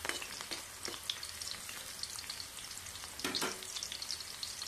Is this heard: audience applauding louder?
no